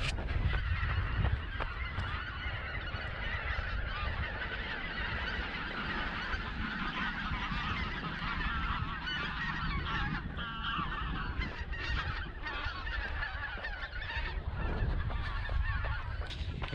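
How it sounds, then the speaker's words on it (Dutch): A flock of geese honks continuously as it flies off, the calls loud and layered over steady outdoor background noise through the whole stretch. "De ganzen die trekken weg."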